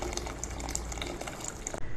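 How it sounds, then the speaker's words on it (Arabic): Hot water poured into a pot of vegetable soup, a steady close gush of liquid that runs for about two seconds and then stops. "بعد ما قلبت الخضار بضيف المية السخنة"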